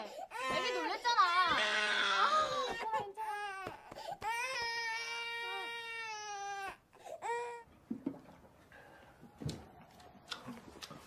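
A startled baby wails in loud, rising, tearful cries with gasping breaks, close up, then fades into softer whimpers as adults speak in Korean over it.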